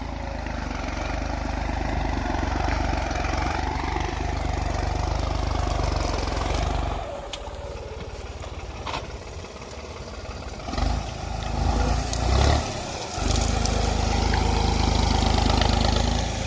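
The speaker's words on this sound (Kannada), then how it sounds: "ಫುಲ್ ಫೈರಿಂಗ್ ಹಾಕತ್ರಿ ಗಾಡಿ." A vehicle engine running steadily at full firing, loud and close with a continuous low throb that briefly drops and thins in the middle before returning to full strength.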